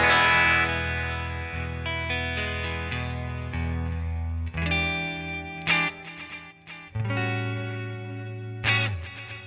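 Clean electric guitar through a Headrush Core, Prime or Flex Prime with a four-tap delay and distortion switched off, playing sustained chords and notes that ring out with repeating echoes, close and alone.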